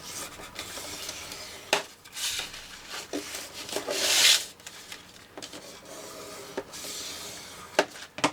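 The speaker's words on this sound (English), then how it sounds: "we're going to fold the 1 inch sides out" Slimline paper card being folded along its sides, with soft rubbing and creasing sounds in short bursts, a brighter swipe near the middle, close and quiet with no talking.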